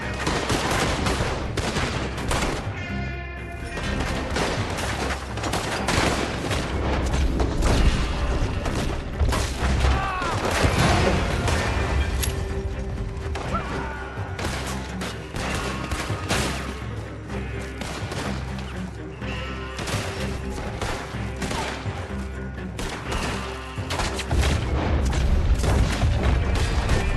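A prolonged Red Dead Redemption 2 shootout, with dense rapid gunfire and heavy booms including an oil wagon blowing up, loud and continuous throughout, with voices shouting intermittently underneath.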